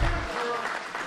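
A crowd at an archery competition claps and cheers in a loud, dense burst, with voices mixed into the applause.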